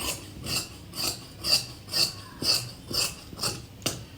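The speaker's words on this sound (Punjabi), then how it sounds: "ਇਹਨੂੰ ਜਿਹੜੇ ਚਾਰੇ ਪੱਲੇ ਇਕੱਠੇ ਕਟਿੰਗ ਕਰ ਦੇਣੇ ਆ" Scissors cutting through four stacked fabric panels for palazzo pants, giving a steady series of about eight rhythmic rasping snips, close and clear with no talk.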